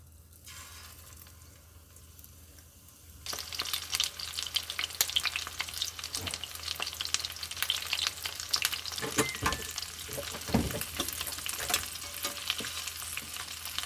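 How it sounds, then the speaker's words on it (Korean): Halved, lightly salted cucumber peppers cooking down in a pan. After a few seconds of near-silence, a steady, dense sizzle and crackle starts and runs on evenly, fairly close, with no talking. "오이고추를 한 10분 정도 졸여줬더니 물이 생겼어요"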